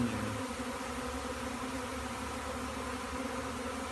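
A dense, steady drone of many bees buzzing together, close and constant with no breaks.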